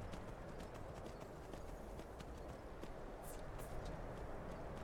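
Horse hooves clip-clop in a steady, continuous rhythm in the video game Skyrim, the trotting close and fairly loud over a dense wash of background noise.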